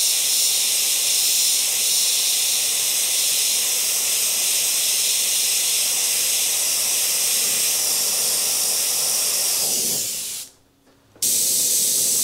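Airbrush left running to dry paint on a clown face, a loud, steady, close hiss of blowing air that cuts off briefly near the end before resuming.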